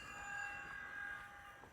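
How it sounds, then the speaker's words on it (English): Union Pacific manifest model train running around a home layout, a faint steady hum and light wheel noise with thin high tones, soft and continuous. "we'll grab this Union Pacific manifest and run it around the layout real quick"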